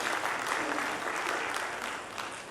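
A conference audience applauds after a keynote address at a national symposium, with dense sustained clapping that fills the room at close range and slowly tapers off.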